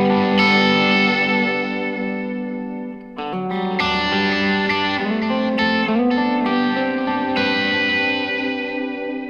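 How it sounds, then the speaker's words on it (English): Electric guitar played through washy ambient delay, with sustained chords and notes trailing into echoing repeats and reverb, loud and continuous with a short break midway. "You can kind of hear the washy delays in there."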